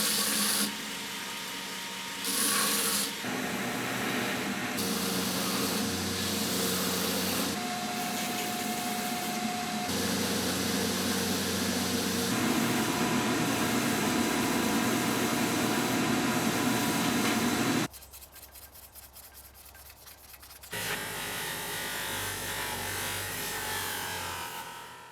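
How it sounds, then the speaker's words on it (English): A belt grinder running a fresh 36 grit belt while rough shaping a custom hunting knife handle of G10, rubber and stabilized Hawaiian milo wood. It gives a loud, continuous abrasive roar that drops out briefly partway through and then resumes. "I've just got a fairly fresh 36 grit belt on here. We're going to get this handle rough shaped"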